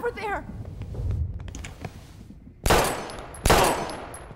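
Two sharp, loud gunshots ring out in a tense standoff scene in Life Is Strange, the first around midway and the second a moment later, each with a ringing tail. Mumbled talk comes before them.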